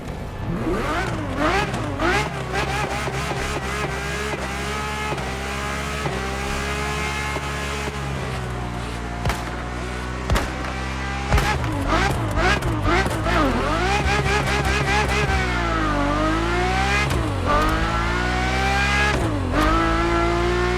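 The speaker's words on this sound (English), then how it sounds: "The Ferrari F50, a bridge between road and racetrack." Ferrari F50 supercar in The Crew Motorfest on PS5, its engine droning and revving loudly and steadily, with pitch sweeping up and down through gear changes.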